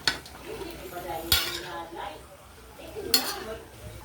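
Chicken adobo with coconut and vinegar is stirred in a metal pot: a steady soft scraping and sizzling, with two sharp metallic clinks of the spoon against the pot a couple of seconds apart.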